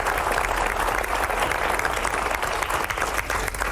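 An indoor audience claps vigorously at a show, a dense, steady roar of many hands sustained at even loudness throughout.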